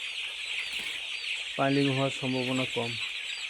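Chickens in a poultry shed at night, scattered over fresh litter, make a constant dense bed of high chattering and rustling while someone speaks briefly over it.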